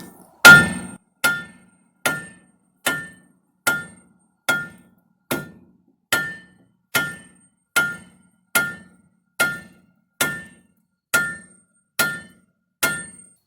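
A hammer taps repeatedly on metal front-end suspension parts of a car during a front-end rebuild, about fifteen sharp ringing strikes at a steady, even pace, close and loud with no talking.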